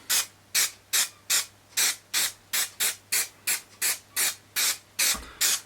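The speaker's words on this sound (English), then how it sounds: "So what I now do is spray the area that I want to apply the grass to" Rapid, evenly spaced hissing bursts from an aerosol adhesive spray can, about fifteen short sprays in a steady rhythm, close and loud, applied before laying static grass.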